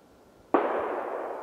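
A single sharp distant gunshot during a moose drive hunt in Yaroslavl Oblast in December cracks out, followed by a long rolling echo that fades slowly across open ground.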